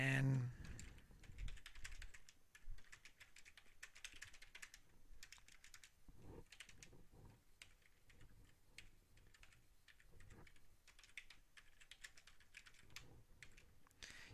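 Computer keyboard typing while editing a web page, a steady run of light, quick clicks continuing throughout at moderate level with no talk over it.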